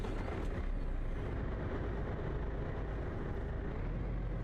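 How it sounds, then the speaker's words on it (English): A truck engine in a truck simulator game holds a low, steady rumble at a constant volume, with a brief hiss near the start that may be an air brake and no voices. "I like the sound of this truck."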